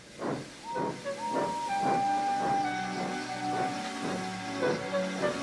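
Henry the steam engine in a Roblox game puffs in rhythmic hissing chuffs, about a dozen steady bursts, while a sustained whistle-like tone drifts over them; no talk.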